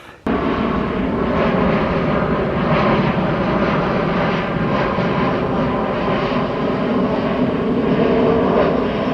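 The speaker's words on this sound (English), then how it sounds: "There goes a plane." An airplane passes overhead near Colonial Williamsburg, its engine roar loud and continuous for the whole stretch after a brief quiet start, with no voices.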